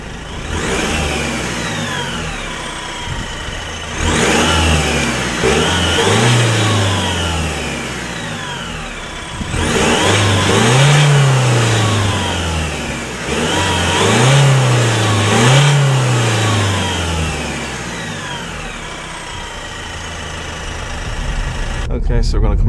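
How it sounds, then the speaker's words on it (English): A 2016 Opel Astra K driven hard in second gear, its engine revving loud and close in repeated rising surges with brief dips at gear shifts, heard from inside the cabin with a voice talking over it. "So foot down in second gear."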